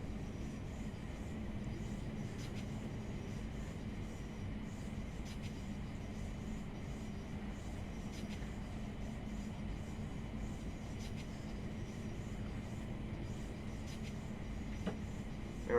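A Thameslink Class 700 train runs in a train simulator game toward the Chatham Viaduct, giving a steady, quiet rolling rumble with faint periodic clicks over about sixteen seconds and no talk.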